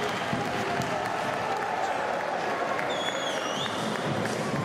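A boxing crowd applauds after the final round, a dense, steady roar of clapping and crowd noise filling the hall at even loudness, with a faint whistle rising near the end.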